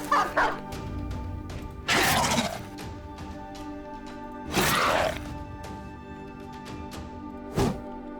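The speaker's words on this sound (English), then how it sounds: "Let's get a dog out." Several short bursts of a war dog barking in the video game Battle Brothers, loud and close, spaced a few seconds apart over a steady low background hum with no talking.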